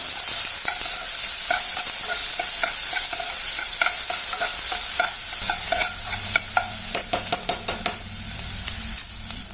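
Chopped onion sautés in a pan for Maggi masala noodles with a loud, steady sizzle. Repeated clinks and scrapes of a spoon stirring run through it and grow quicker and sharper toward the end, with no voices.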